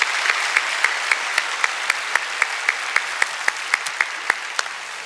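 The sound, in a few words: church congregation applauding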